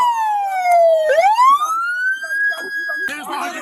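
A police car siren wails close and loud, sweeping down, then back up, before switching to a different rapid warble.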